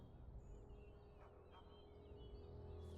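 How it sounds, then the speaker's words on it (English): A bird in the fantasy game Dragon Age: Origins calls with a few faint, fowl-like gobbling notes over a steady low ambient bed, quiet and fairly distant, with no talking. "What's this bird hopping at me?"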